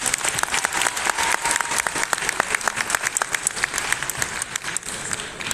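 Sustained audience applause at a cosplay final at Paris Games Week 2025: dense, steady clapping from a large crowd filling the hall, loud and continuous throughout with no break.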